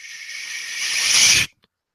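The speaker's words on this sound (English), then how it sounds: "I kind of put a reverse crash right before the hook" A reverse crash cymbal effect used in a beat swells from soft to loud over about a second and a half, a bright rising hiss that cuts off abruptly, followed by silence and a tiny click.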